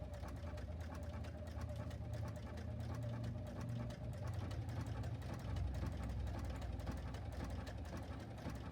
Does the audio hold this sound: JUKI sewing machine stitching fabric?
yes